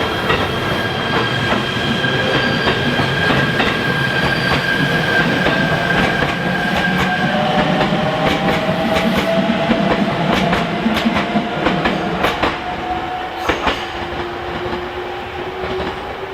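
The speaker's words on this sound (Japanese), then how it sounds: "1番線特急リバティ東武日光行きが発車いたします。" A Tobu Railway Limited Express Liberty train bound for Tobu-Nikko moves through Shimoimaichi Station at night with loud, continuous wheel rumble, rhythmic clicks over rail joints and rising squeals, close by and steady.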